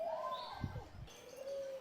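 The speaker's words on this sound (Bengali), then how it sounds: "এটা হচ্ছে কালেম পাখি।" White doves in a zoo cage, soft cooing calls heard up close and fairly quiet, with a faint chirp and light background noise.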